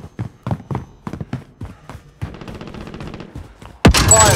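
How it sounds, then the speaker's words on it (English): Battle royale game gunfire aimed at a tower: a quick run of rapid, evenly spaced shots, then a sudden loud burst at the end, after a few scattered dull thumps. "I don't see him, but they're shooting at the tower."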